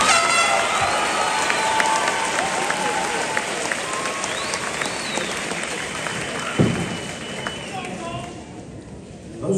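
An audience at a US high school graduation claps for graduating students, a loud sustained wash of applause with scattered cheers and horn-like toots mixed through it.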